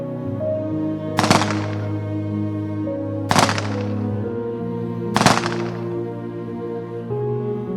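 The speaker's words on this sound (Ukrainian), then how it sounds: "На честь полеглого військовослужбовця пролунав військовий салют" Three sharp rifle volleys of a military funeral salute for a fallen soldier machine gunner at a central cemetery in Kryvyi Rih, spaced about two seconds apart, each cracking loudly over a steady background hum.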